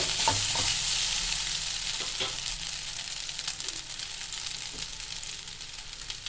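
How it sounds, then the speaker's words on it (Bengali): Chowmein noodles lightly frying in a pan for restaurant-style egg chowmein produce a dense, steady sizzle up close, with occasional soft stirring knocks and no voices. "চাউমিনটা একটু হালকা করে ভাজবো।"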